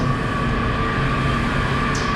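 Metro train running through the RFK campus station, a constant close rumble of wheels and carriages with a brief high squeal near the end, no talk.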